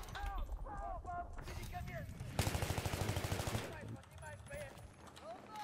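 Automatic gunfire in a competitive shooter video game, a burst of rapid evenly spaced shots lasting about a second and a half in the middle, with people talking over it before and after.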